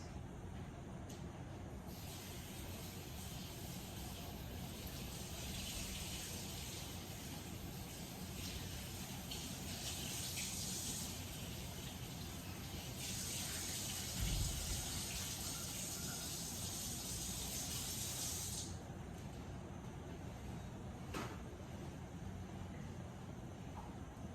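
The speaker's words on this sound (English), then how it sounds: "Okay, so my salmon, I'm just gonna give that a rinse." Salmon rinsed under a running kitchen tap gives a steady, soft hiss of flowing water for a long stretch, rising and easing in strength, fairly faint and alone without talk.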